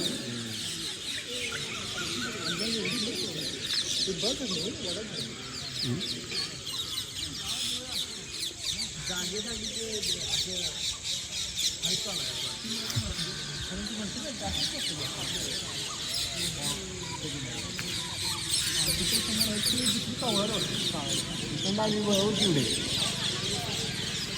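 Harsh, repeated squawks and chatter from a flock of parrots in peepal trees in the evening, mixed with people talking nearby.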